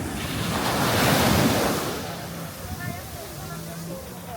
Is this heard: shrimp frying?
no